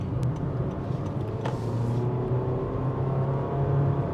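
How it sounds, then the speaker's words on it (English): A 2026 Honda HR-V with a 2-liter four-cylinder engine hums steadily while driving, a low constant drone under road and tire noise, with no talking. "although this 2-liter 4-cylinder may not be a powerhouse, it does make a very solid noise"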